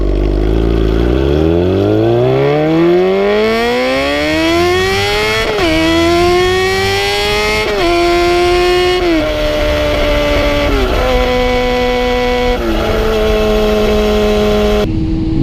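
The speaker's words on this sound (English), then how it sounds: "I do right now have my D&D race pipe on there" A 1999 Yamaha R6 with a loud D&D race exhaust winds up through the gears, each rising howl broken by quick shifts, close and loud throughout.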